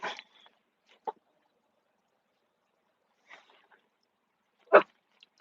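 A dog barks a few times in short, separated bursts, with quiet gaps between them and one louder bark near the end.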